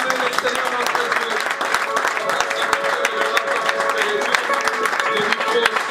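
A church congregation applauds, claps and cheers in praise of the Lord, with dense sustained clapping filling the room and a voice speaking over the crowd.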